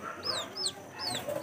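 Chickens cluck in short bursts while being fed kitchen scraps such as leftover pechay, a few calls rising close by over a low background murmur.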